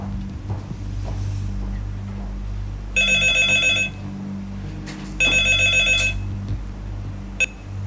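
A telephone rings in two loud electronic bursts, each about a second long, with a brief chirp after, over steady low room hum in a Bangla-dubbed Turkish drama scene with no talk.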